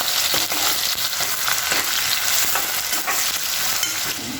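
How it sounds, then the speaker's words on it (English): Onions frying with cumin seeds in a pan for khichdi, a loud, continuous close sizzle with crackling pops throughout and no voices. "And then I put the onions."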